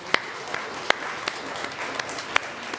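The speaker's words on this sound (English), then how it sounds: "Let's give another resounding applause for our music team." Congregation at a church service applauding the music team, with sparse, scattered claps standing out as a few distinct sharp hits over a low room wash.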